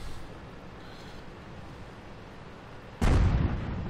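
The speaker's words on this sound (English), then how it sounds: "Yep, gotta watch that artillery." Artillery shell firing in the tank battle game World of Tanks, with a low engine rumble underneath, then a sudden loud, deep boom near the end that rings out briefly, no talking.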